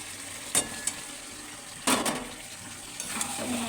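Potatoes being stirred in a pan of thin meat curry, with a steady low sizzle and a few sharp scraping clatters from the spoon, close and fairly quiet.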